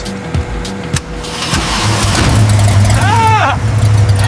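An abandoned Lamborghini's engine cranks and catches, settling into a loud, steady idle roar with a rising-falling whine near the end, heard up close.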